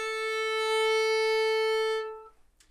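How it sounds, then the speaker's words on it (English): A solo violin plays one bright held note from Bach's Minuet 3, decorated with a quick crushed grace note (Scotch snap). The note sounds clear and close, then cuts off into near silence. "a decoration which we call an acciaccatura, or crushed note"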